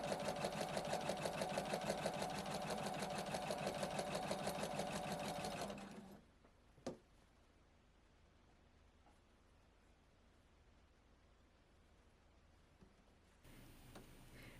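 A sewing machine stitches quilt squares together in rows at a fast, steady rhythm for several seconds, then stops, leaving near silence with a faint click.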